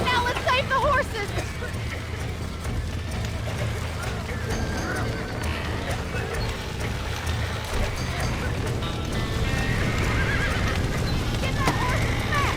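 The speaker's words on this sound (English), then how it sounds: "Now let's save the horses." Horses whinny and hooves clip-clop in Red Dead Redemption amid a busy, continuous mix of game music and effects, with voices calling out over the action.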